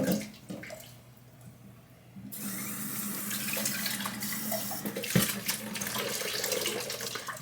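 Tap water runs steadily into a small glass at a kitchen sink, a continuous moderately loud hiss and splash that begins about two seconds in after a quieter stretch with a few clicks.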